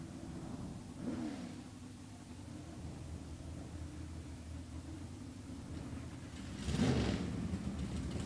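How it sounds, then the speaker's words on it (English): Drag racing cars do burnouts at a Comp Eliminator qualifying session, one of them a V6-powered dragster, with a steady engine drone and two revving surges, one early and a louder one near the end. "And our next pair, doing their burnouts, pulling up."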